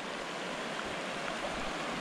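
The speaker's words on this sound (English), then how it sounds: "We're right on the edge of the creek that's going into Silverjack Reservoir." A rain-swollen creek flows into Silverjack Reservoir, a steady broadband rush of water heard close and continuous with no voices.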